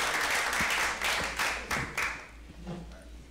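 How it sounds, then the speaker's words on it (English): An audience at a seminar applauds, a dense burst of clapping that is loud at first and gradually thins out over a few seconds. "Give her a round of applause."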